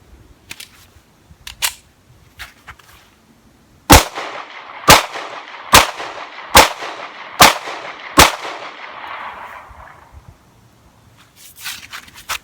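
A Remington Enhanced Commander .45 ACP pistol fires six loud, sharp shots in a fairly even rhythm, each ringing out with a decaying echo, while quieter handling clicks come before and after.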